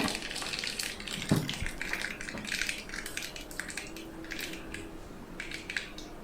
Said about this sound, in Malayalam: അപ്പോൾ കടുക് നല്ലതുപോലെ പൊട്ടുന്നുണ്ട്.